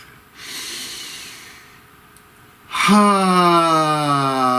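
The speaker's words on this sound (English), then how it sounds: "Please take a nice deep breath" A long, deep breath taken in through the nose and released in a slow, close, airy exhale, followed by a held humming tone.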